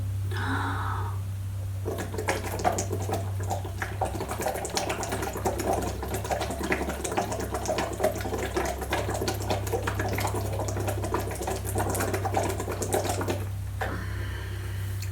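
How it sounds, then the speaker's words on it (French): Bubbles blown into water make a continuous close bubbling and gurgling for about ten seconds, starting and stopping abruptly, over a low steady hum. "Et c'est donc de faire des bulles."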